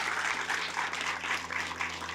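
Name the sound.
audience applause for volunteers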